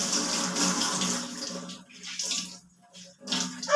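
A cooking vessel is washed under a running tap in a village kitchen, with close bursts of flowing, splashing water that stop and start in short spells.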